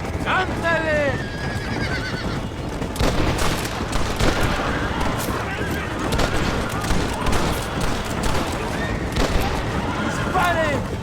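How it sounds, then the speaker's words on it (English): Shootout gunfire from the video game Red Dead Redemption, sharp shots scattered through a dense, busy mix, with horses whinnying and hooves clopping and voices shouting over the fight. "¡Una emboscada! ¡Abran fuego!"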